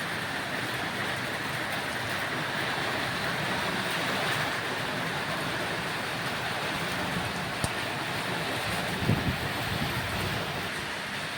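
Heavy summer rain falls with wind, making a dense, steady roar throughout with a few faint knocks and no talking.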